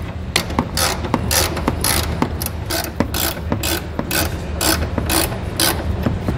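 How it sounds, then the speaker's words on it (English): A hand ratchet loosens 15 mm bolts under a 2018 Chevrolet Equinox while a trailer hitch is fitted. It makes a close, loud run of rapid clicking bursts in an even back-and-forth rhythm with no talking. "Now these are going to be a 15 millimeter, and we're going to go ahead and remove 2 on this side"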